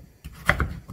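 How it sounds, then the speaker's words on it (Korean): A knife finely chops green onion on a board, giving a few brief, close thuds and crisp cuts within less than a second. "잘게 썰어줍니다"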